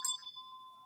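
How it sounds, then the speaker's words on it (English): A single bright notification ding rings out alone, a short metallic bell tone with a sharp attack that lingers as a steady fading ring. "and then maybe ringy-ding that bell."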